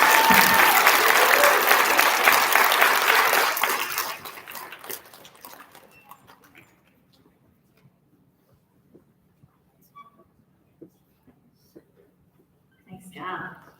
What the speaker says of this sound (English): Let's give a nice big round of applause for all of our 5th graders.